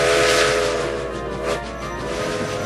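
A steam locomotive whistle blows loudly and continuously, breathy and hissing, with a tonal shriek wavering slightly over its length.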